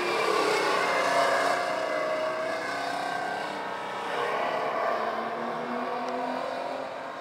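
A race car drifts on a dirt track, its engine revving and wavering at moderate distance in a continuous, slightly fluctuating roar with no voices.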